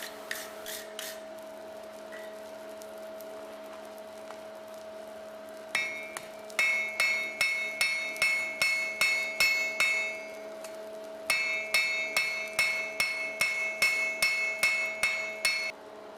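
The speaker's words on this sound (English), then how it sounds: "I then head back to the face of the anvil in order to smooth, even out and planish the handle." A blacksmith's hammer planishes a forged flint striker handle on an anvil: two bursts of rapid, ringing metallic blows at a steady rhythm, close and clear over a constant low hum, with a few lighter taps at the start.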